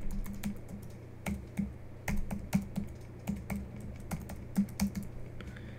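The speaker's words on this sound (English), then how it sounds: "And now just type down the information." Close, crisp clicking of fingers typing on a computer keyboard, with irregular bursts of keystrokes and short pauses and no talk.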